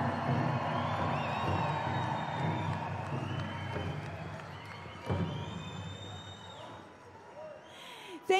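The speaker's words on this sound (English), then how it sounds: "let's give these ladies a roaring big round of" A large pow wow crowd in Tingley Coliseum, Albuquerque, New Mexico, at the Gathering of Nations, applauds and cheers in a steady sustained roar, with scattered whoops and a brief louder burst near the end.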